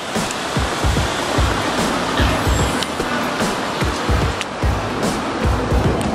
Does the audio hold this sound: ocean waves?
yes